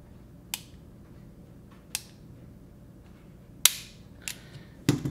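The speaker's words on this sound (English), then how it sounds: "You got to let it all the way out here, second click before you can do it." Trigger reset clicks from a Ruger LCP pistol, heard as five sharp, close mechanical clicks spaced irregularly over a few seconds, the last pair coming quickly together, with no talking.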